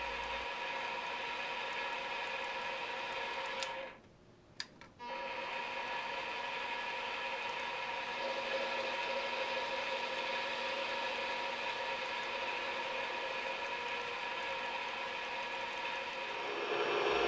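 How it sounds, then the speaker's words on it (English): A lathe takes facing cuts on a chucked piece of cold rolled steel, a steady mechanical hum and whine with a tonal drone, briefly dropping out mid-run before resuming and swelling toward the end. "I chucked up a piece of cold rolled steel in the lathe and took several facing cuts to clean up the face of saw marks"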